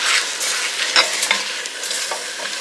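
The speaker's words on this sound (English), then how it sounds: "Go, a bit of a sizzle" Beans with chilli sizzle steadily in a hot pan over a burner while being stirred, with a continuous loud frying hiss broken by a few scraping stir strokes and no voices.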